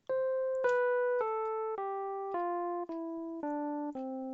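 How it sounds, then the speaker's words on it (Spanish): A clean electronic-sounding tone steps down a scale, eight even notes each struck and held briefly, played alone. "Aquí lo que tenemos es una escala descendente"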